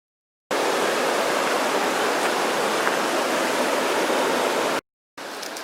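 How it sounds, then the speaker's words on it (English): The American River flows in a steady, dense broadband rush of water, close and continuous, cutting off abruptly before a brief quieter return. "The American River."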